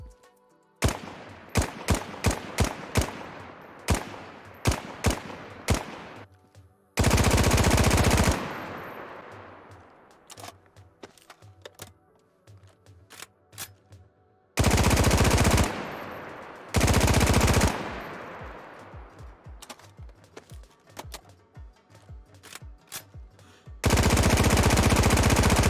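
Bursts of rapid automatic fire from 9x39 ASVAL and VSS rifles in the survival game DayZ, ringing out as repeated rattling strings with short pauses and echoing tails, several loud sustained volleys, no voices.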